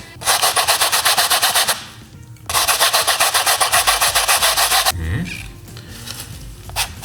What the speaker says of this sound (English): I want to sand this part here and this part right here